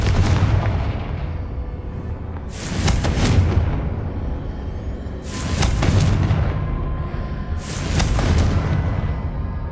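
Three heavy, booming Confringo blasting-spell explosions from Hogwarts Legacy land roughly three seconds apart, each a loud rumbling burst that swells and fades, with no talk over them.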